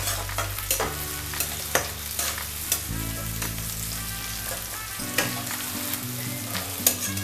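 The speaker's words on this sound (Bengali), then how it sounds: "দেখো, পেঁয়াজটা একটু ভাজা ভাজা আমার হয়ে গেছে।" Chopped onions and green chillies fry in a pan of oil for a cauliflower paratha, giving a steady sizzle with occasional stirring that runs under background music, with no voices.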